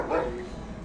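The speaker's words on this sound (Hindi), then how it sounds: "ये ओनर की डॉग है जो हमें देख के भौंक रहा है" The owner's dog at a green, farmhouse-style plot in Greater Noida gives a single quick bark outdoors, close and moderately loud over a steady background hiss.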